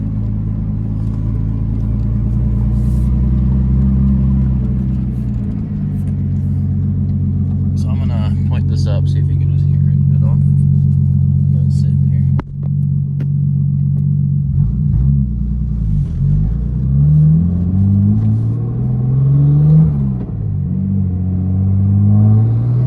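RB25-engined drift car on the move, a deep continuous engine rumble that rises and falls with throttle changes, heard from inside with someone talking over it.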